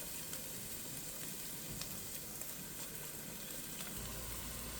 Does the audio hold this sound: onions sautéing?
yes